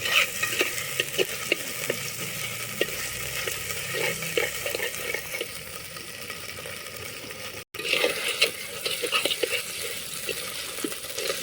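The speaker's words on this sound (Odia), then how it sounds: "ପିଆଜ ସହିତ ଫ୍ରାଏ କରାହେବ। ଏବେ ଭାଜିଲା ପରେ ତେଲ ଛାଡ଼ିବ" Masala and onions fry in hot oil for a potato-free moti tarkari curry, giving a steady, close sizzle with stirring scrapes throughout and a brief break near the end.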